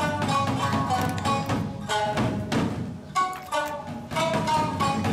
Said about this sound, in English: Notice the sound of the drums again.